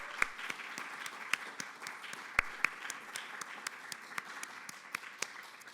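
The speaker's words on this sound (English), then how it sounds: "Round of applause for you." A symposium audience gives a fairly quiet, sparse round of applause for an artist, individual claps standing out against a steady soft patter.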